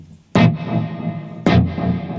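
Two loud overdriven electric guitar chords with a plexi-style amp tone, each struck sharply and left ringing with slapback echo and reverb, the second hit about a second after the first, with no talk.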